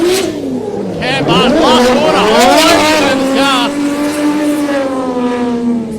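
Nissan R33 drift cars battle on track, engines revving hard with rising and falling pitch as they slide through corners, close and loud beneath a race commentator talking continuously.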